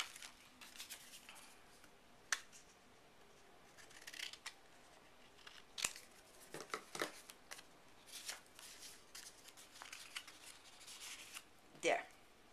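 Scissors cut small paper pieces in half for a craft project, crisp separate snips and paper handling spread across the span, close and fairly quiet.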